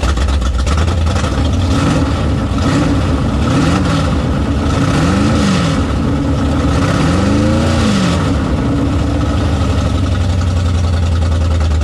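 A modified drag car with a stroked RB engine, trans brake and line lock rumbles loudly and steadily at idle, with repeated rising-and-falling revs blipping over the low throb.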